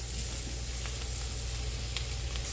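Mushrooms sizzle steadily in a hot pan for a homemade burger steak: a close, even frying hiss with faint stirring ticks and no voices.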